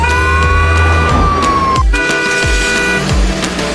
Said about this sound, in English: P for police car. Police car.